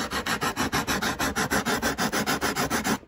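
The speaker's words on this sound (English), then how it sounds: "So I just go in there with some sandpaper or whatever you got." Sandpaper rubbed back and forth on a model airplane part, about fifteen quick, even strokes in a regular rhythm, close and alone.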